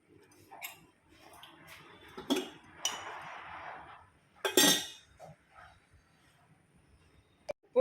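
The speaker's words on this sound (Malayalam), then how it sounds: "നമുക്കിതിങ്ങനെ ഇളക്കി കൊടുക്കാം." Mango pulissery curry is stirred in a pot over gentle heat without boiling. Sparse metallic clinks and scrapes of a spoon against the pot come close and loud, with quiet pauses between them.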